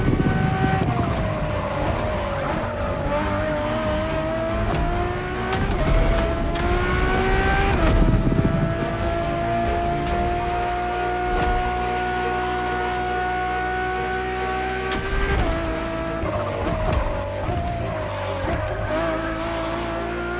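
Road-legal Ferrari hypercar with Formula One roots driving in The Crew Motorfest, a loud engine howl rising and falling through gear changes over about twenty seconds, with tire squeal and sustained high-revving wails.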